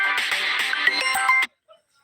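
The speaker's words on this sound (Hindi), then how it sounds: "देखो तुरंत फोन आ गया" An incoming call sets off a phone ringtone, a loud repeating melodic chime that plays steadily for about a second and a half, then cuts off, followed by a faint brief blip in near silence.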